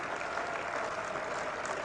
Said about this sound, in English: crowd relieved applause almost